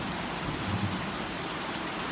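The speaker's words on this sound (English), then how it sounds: "But it's beautiful, beautiful rain," Steady rain pours onto a porch during a mild thunderstorm, a continuous dense hiss of falling drops with no breaks, close and even throughout, with no voices.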